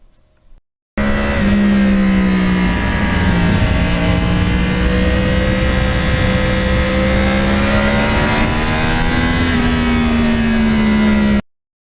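A one-owner original crossplane Yamaha R1 motorcycle with 32,000 miles runs loud and continuous for about ten seconds, its engine and exhaust note droning steadily with slight rises and falls in pitch, alone without talk.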